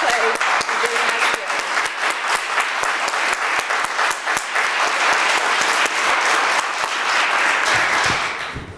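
An audience at the Legal Aid Society's 100th anniversary celebration breaks into sustained, loud applause, dense overlapping clapping that carries for several seconds before tapering off at the end.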